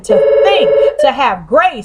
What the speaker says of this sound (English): That's the phone, y'all.